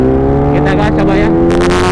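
Kawasaki H2 motorcycle revving on the throttle on a straight Jakarta road, a loud, close, continuous engine roar with rising pitch surges throughout the two seconds.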